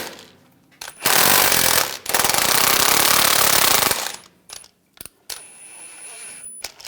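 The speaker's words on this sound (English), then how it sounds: "Using a 15mm socket, I'm going to take these bolts out." An impact tool spins a 15mm socket to remove driveshaft bolts on a 2011-2018 Ram 1500, roaring loudly and up close in two sustained hammering bursts, one short and one longer, followed by scattered metallic clinks and taps.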